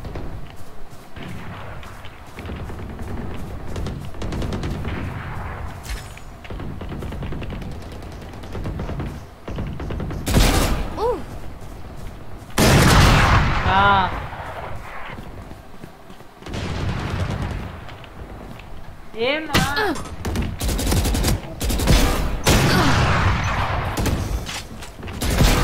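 Gunfire in the video game Valorant, a sequence of loud sharp shot bursts and rapid volleys separated by quieter stretches, with brief faint voices in between.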